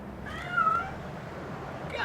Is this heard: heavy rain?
no